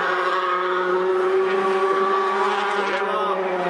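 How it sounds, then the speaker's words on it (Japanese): A Mitsubishi gravel-spec rally car on gravel tyres drifts at a Yokohama sports meeting, its engine a loud, steady, high-revving drone that holds throughout, with faint voices underneath. "あそこまでドリフトで寄っていくと回しております"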